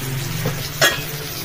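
Brinjal pieces fry in oil in a pan, a close, steady sizzle with one brief scrape of stirring near the end.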